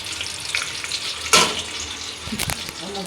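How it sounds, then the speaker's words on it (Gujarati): Green chillies frying in oil, a soft continuous sizzle at low level with a couple of brief louder crackles and clatters partway through. "તો મરચાં પણ જો સરસ મજાના તળાય છે"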